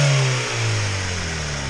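A small car's engine revs hard while accelerating through first and second gear, with an exhaust leak, a steady loud droning roar that surges slightly and holds.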